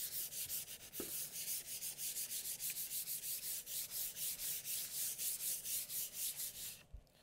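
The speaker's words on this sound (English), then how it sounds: "your sanding block with a 220 grit and give it a light sand" A 220 grit sanding block rubbed lightly over a painted wood backdrop in quick regular back-and-forth strokes, a close, rhythmic scratchy hiss with no talking.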